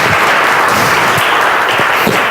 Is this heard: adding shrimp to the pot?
no